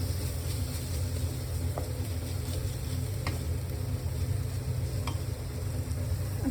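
Cumin powder and chole masala are stirred into a sizzling spinach and black chickpea curry, with steady frying hiss and a few light spoon taps against the pan.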